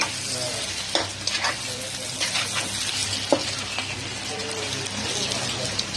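Chicken liver fry sizzling in a pan as garam masala is stirred through, a continuous hiss broken by irregular scraping and clinking strokes, close and fairly loud.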